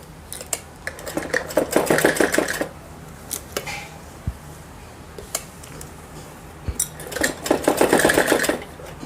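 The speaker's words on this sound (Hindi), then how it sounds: "तो आइए पहले सिलाई लगा लेते हैं। यहाँ पर 2 सिलाई लगाएंगे।" A sewing machine stitches a Patiala salwar in two close, loud bursts of rapid rhythmic whirring, separated by a quieter pause filled with small clicks and handling noises.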